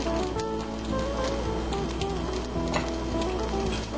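Sausage sizzling in a hot pan beside hash browns while a breakfast skillet is cooked: steady, close frying hiss with faint crackle, continuous with no talk.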